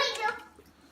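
Homemade chicken broth poured into an Instant Pot, a short close splashing gush that trails off quickly into quieter trickling.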